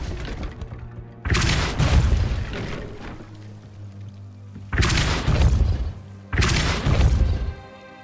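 Depulso spell impacts in Hogwarts Legacy: three loud, sharp crashing booms, each hitting suddenly and ringing out for about a second, spaced a few seconds apart over a low background hum.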